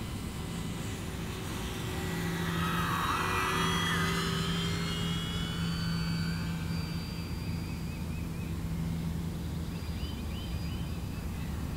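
E-Flite P-51D Mustang 1.5m RC model warbird making a topside presentation pass, its electric motor whining steadily and swelling as it passes, with wind noise throughout.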